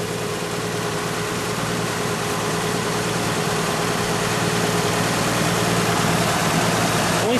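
A 1960 Chevrolet Impala's High Thrift 6 engine idles smoothly and evenly, a steady close hum that holds constant with no talking.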